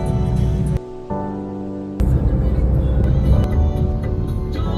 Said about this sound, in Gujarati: વરસાદ ફૂલે ફૂલ ચાલુ થઈ ગયો.